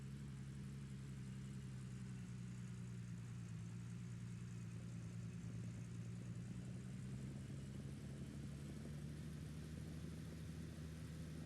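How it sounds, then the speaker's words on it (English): A truck engine in the video game Gold Rush drones steadily at a low idle, a constant muffled rumble with no change in pitch throughout. "Truck doesn't seem quite as loud now"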